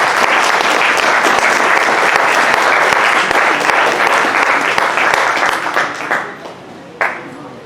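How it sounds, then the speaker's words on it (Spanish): Loud, strong applause from an audience at a hospital general session on palliative care, dense and sustained for several seconds, then thinning into a few scattered final claps before fading out. "recibámoslo con un fuerte aplauso"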